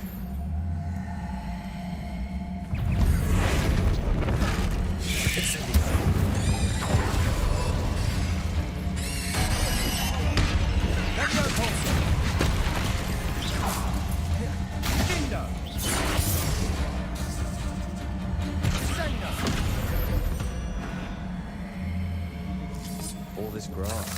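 The Bombarda explosion spell goes off in Hogwarts Legacy amid dense, continuous game noise: rumbling blasts, crashes and whooshes over a droning score, with a voice talking throughout.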